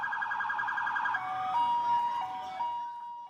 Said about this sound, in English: Sirens sound loudly as the trucks arrive at the scene